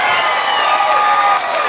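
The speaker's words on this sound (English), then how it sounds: "Round of applause." A comedy show audience applauds and cheers at close range, a dense steady wash of clapping with a few whoops throughout, no speech over it.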